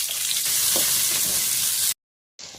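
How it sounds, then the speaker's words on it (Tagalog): Onions sauté in a hot oiled pan, a close, steady sizzle that cuts off abruptly near the end and briefly returns fainter; no one speaks. "Gisahin natin. Yan. Sibuyas pare ko ilagay natin."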